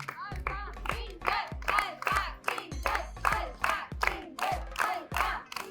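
A crowd at a game show event claps and cheers loudly in a steady rhythmic chant, with repeated bursts of clapping and shouting close by.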